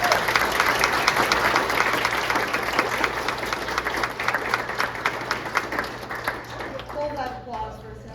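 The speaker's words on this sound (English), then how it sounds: "Hold that applause for a second" Applause from a live audience at a skeptics' conference in Calgary, dense steady clapping under a hum, with talking mixed in, thinning and tapering off near the end.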